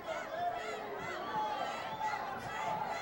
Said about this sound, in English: This crowd is urging them to do exactly that.